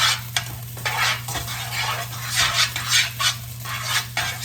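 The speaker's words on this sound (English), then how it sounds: "We're just gonna keep stirring this around until things happen" Fried rice being stirred in a pan, with repeated scraping strokes of a utensil against metal in an irregular rhythm over a constant low sizzle, close and clear with no talk.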